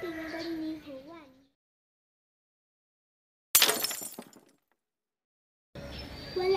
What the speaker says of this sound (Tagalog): Minsan nabasag ang hinagpasang pinggan ni Juan.